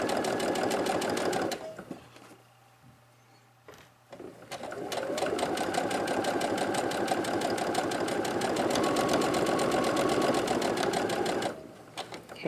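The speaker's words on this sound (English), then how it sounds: "we're going to sew across the bottom here" A sewing machine stitches a seam across the bottom of a zipper pouch in two loud, rapid, steady runs, with a brief quiet pause between them.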